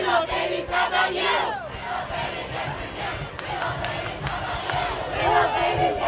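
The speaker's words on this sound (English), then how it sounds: "Signs and banners were held high as the masses made their way up Capitol Hill, cheering and chanting." A large crowd of marchers climbs Capitol Hill at the March for Life, cheering and shouting together in a loud, continuous roar with rising chant-like bursts throughout.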